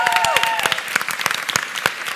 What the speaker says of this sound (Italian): Permettetemi di condividere questo applauso